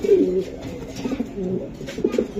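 Racing pigeons at a market coo with soft, low, repeated throaty calls, close and steady throughout, without speech over them.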